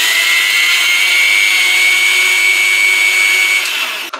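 A mixer grinder powdering about three-quarter cup of sugar whines loudly and evenly at high pitch, then cuts off abruptly near the end with a brief clatter.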